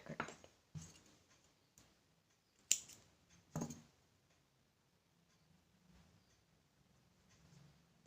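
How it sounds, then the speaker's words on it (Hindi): Scissors snipping thread while sewing a small doll suit, a few sharp, crisp clicks spaced apart in otherwise quiet surroundings, close and soft. "धागा कट कर देंगे"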